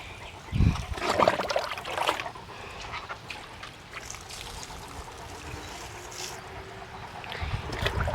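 Water trickles and splashes as it is poured over a St. Bernard's thick coat at bathtime, a close, uneven wet pouring with a few louder sloshes and no talking.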